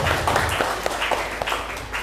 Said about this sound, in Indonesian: Tepuk tangan untuk BLN